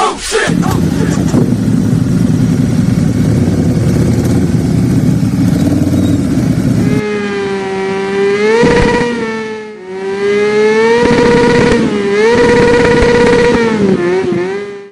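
A loud motorcycle engine roars up close, then revs repeatedly, its whine rising and falling in pitch with short dips between bursts.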